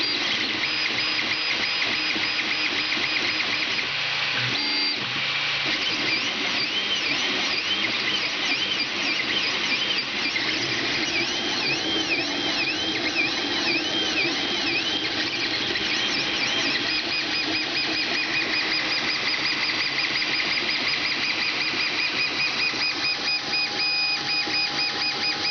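A Creality Ender 3 3D printer running a test print with its original plastic extruder body, giving steady close-up stepper-motor whine and warbling, melodic motor tones over a constant mechanical hum, with no talk.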